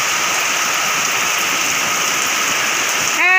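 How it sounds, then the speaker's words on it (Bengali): Heavy rain pours down in a steady, dense hiss that stays constant throughout, with a brief faint chirp near the end. "এত বৃষ্টি হচ্ছে বলে।"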